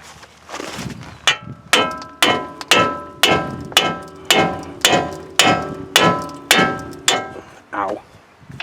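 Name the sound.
pickle fork hammered to separate a Nissan Titan ball joint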